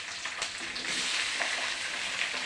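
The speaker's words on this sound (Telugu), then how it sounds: "బాగా వేయించుకోవాలండి." Tomatoes and onions frying with green chillies, curry leaves and turmeric in a pan of roasted peanuts, giving a steady close sizzle and crackle with faint stirring, no talk.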